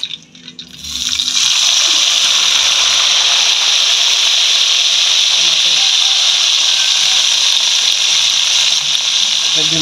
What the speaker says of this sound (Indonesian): Goreng lomboknya pemirsa